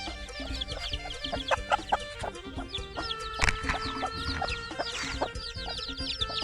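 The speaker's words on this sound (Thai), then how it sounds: "ไก่ขันไป" Chickens clucking and a rooster crowing amid a busy rural farmyard in Isan, northeastern Thailand, with many birds chirping in the background; steady, lively ambience without talk.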